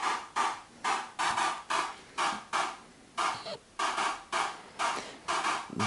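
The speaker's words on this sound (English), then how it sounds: "This makes some pretty convincing 80s claps." Signal generator tone gated by a kick drum gives a steady series of short, sharp clap-like bursts, about two per second, fairly quiet and alone, resembling 80s electronic claps.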